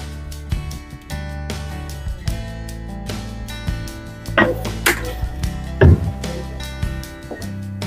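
Paneer being sliced into pieces with a knife on a board for dhaba-style matar paneer, a run of crisp, close chopping knocks at an irregular pace, some louder and sharper, with no talking.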